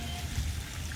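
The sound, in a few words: pouring mixed fluid onto the lawn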